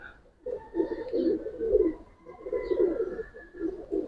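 Young pigeons coo softly up close in repeated low, throaty phrases, with short pauses between them.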